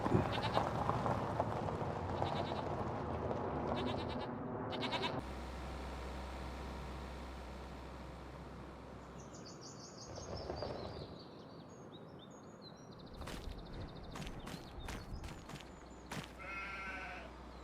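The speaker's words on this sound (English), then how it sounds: "Let's go see what's going on with our sheep" Sheep bleat intermittently over a steady background hum, with several short high calls clustered near the end; the animals sound moderately close.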